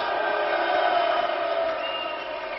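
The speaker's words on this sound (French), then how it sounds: "les artistes ont eu beau maintenir le spectacle, ils ont été accueillis par les huées du public" A festival audience in the ancient theatre at Orange boos and jeers a performance, a dense sustained roar of many voices filling the space at fairly close range.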